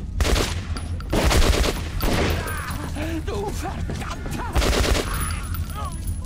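Automatic gunfire in the shooter game Metro Last Night: long, loud machine-gun bursts and scattered shots ripping through a tense firefight, with someone shouting over the shooting.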